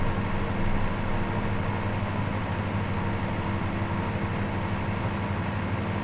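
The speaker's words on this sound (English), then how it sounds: "Good that it's got traffic as well." Vehicle engines from passing traffic in a farming simulator game form a steady low drone that runs unbroken and fairly loud, with no talking.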